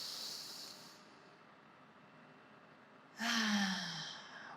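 A person doing deep breathing during a home stretching session, a soft sustained hiss of air fading out, a quiet pause, then a strong, close exhale through the nose.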